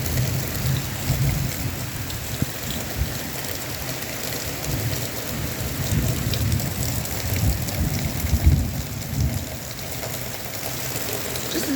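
A thunderstorm sends heavy rain hissing and pattering steadily close by, with low rumbles of thunder rolling underneath and one stronger swell near the end.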